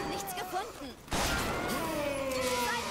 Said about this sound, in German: Ich muss mal kurz meine Schüsse hier an denen loswerden.